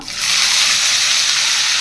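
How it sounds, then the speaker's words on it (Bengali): Nigella seeds hit hot oil in a pan for tempering, setting off a sudden loud sizzle that rises fast and stays strong and close for a brief moment. "আমি প্রথমে একটু কালো জিরে ফোড়ন দিয়ে দিচ্ছি"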